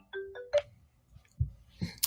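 A phone rings with a short melodic ringtone, a few rising chime notes that sound clear but moderately quiet in a room during a livestream, followed by faint knocks and soft noises.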